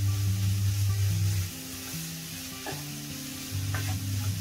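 Finely minced keema, twice-ground by the butcher, sizzles and fries steadily in a pan for an aloo keema pattice, with occasional stirring scrapes over a continuous close, even hiss.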